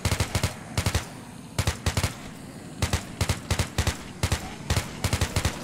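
Gunfire rings out in the first-person shooter Crimson Earth 2, sharp shots in rapid clusters of two to four spaced through the clip, loud and close with no talking.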